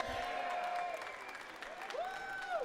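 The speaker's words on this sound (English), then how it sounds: "Let's give a round of applause for everyone here." An audience at a King of Fighters XV fighting game tournament grand final applauds, a steady patter of clapping heard at moderate distance beneath sustained electronic tones and music.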